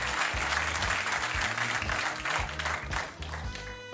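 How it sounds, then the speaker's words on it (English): Studio audience on a late-night talk show applauding steadily, a dense, full wash of clapping that stays loud throughout with a brief dip near the end, low thumps and musical tones underneath. "Harrison can't help but bask in the applause"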